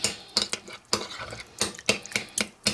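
A utensil mashes and stirs garlic butter and parmesan sauce in a bowl, a series of soft, rhythmic scraping and squishing strokes close up, with no talk.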